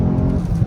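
Engine of a 2022 VW MK8 GTI hot hatch with a 6-speed manual, accelerating in second gear, heard as a loud, steady low rumble inside the car with no talk.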